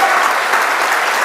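A crowd at a church youth gathering cheers and applauds loudly and steadily, dense clapping mixed with shouts filling the space without pause.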